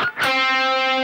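A distorted electric guitar plays the fourth phrase of a riff: a quick pick attack, then one sustained, ringing note that holds to the end, loud and alone.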